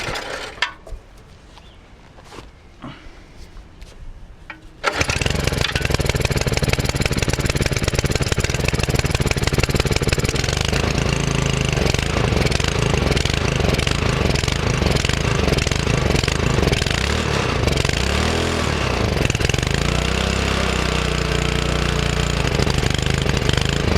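A Honda G100 engine on a Belle 150 cement mixer, just repaired after failing to start, heard as a few quiet knocks followed by a sudden start into a loud, steady, close chugging run that fills the rest of the clip.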